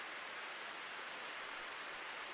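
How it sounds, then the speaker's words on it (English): Steady, dense rain falls in the visual novel game Planetarian, a constant soft hiss of even downpour with no other sounds over it. "the rain was continuing to fall as it always had."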